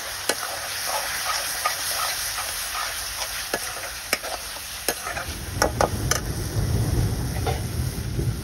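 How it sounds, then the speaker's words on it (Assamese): Wild kathfula mushrooms being stirred in a pan with salt and turmeric, a steady close scraping and soft sizzle with sharp utensil clicks against the pan, growing louder and busier toward the end. "আৰু এতিয়া ইয়াত নিমখ আৰু লগতে হালধি দি মিক্স কৰি"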